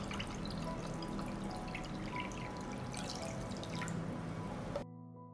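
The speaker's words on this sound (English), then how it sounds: "I pour water up to the height of the lid." Water pours and trickles into a pan holding jars set on a cloth for pasteurizing, a continuous close splashing flow that stops abruptly near the end.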